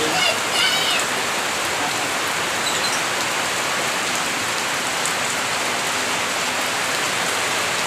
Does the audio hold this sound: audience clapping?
no